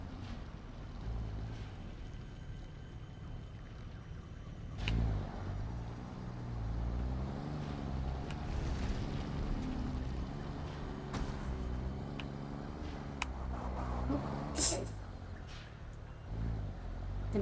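A tractor drives in the factory-building game Satisfactory, its steady low engine drone rumbling continuously with a faint whine on top and occasional clunks, moderately loud with no talk.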